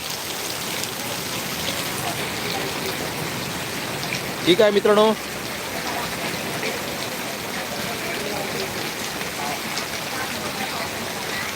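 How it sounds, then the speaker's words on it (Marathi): Steady heavy monsoon rain with wind roars throughout in Sangameshwar, Ratnagiri, Konkan, with a brief burst of speech near the middle before the downpour continues alone. "वादळ वारासहित पाऊस आहे"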